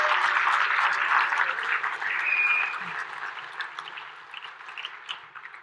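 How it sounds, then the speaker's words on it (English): Applause from a convention audience for award winners, a steady wash of clapping that is loud at first and gradually thins and fades toward the end. "let's give one more round of applause to all of the winners"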